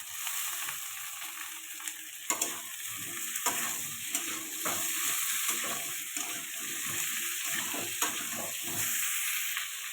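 Onions and potatoes frying in a pan for a Bengali potato and fish curry, with a constant near sizzle and repeated stirring scrapes and knocks running through the whole stretch, no voices.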